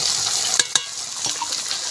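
Carrots and potatoes go into hot spices in a pan over a wood-fired clay stove, with a hissing sizzle and a couple of sharp knocks as they land and are stirred.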